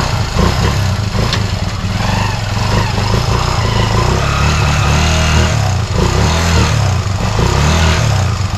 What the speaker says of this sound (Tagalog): Balik yung tunog niya, wala nang usok dahil bago na pa yung block.